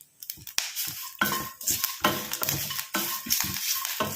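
A spoon scrapes and stirs dry grated coconut frying in a pan, giving irregular clinks and scratchy rustles with a faint sizzle beneath, close and fairly quiet.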